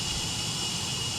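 Simulated MD80 jet engine at low power from the outside in a flight sim sound pack, a steady broad roar and whine, brief and even, with no talk.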